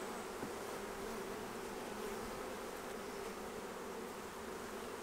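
Honey bees buzz in a steady, soft drone around a hive frame heavy with nectar, a constant, even hum heard up close with no talking.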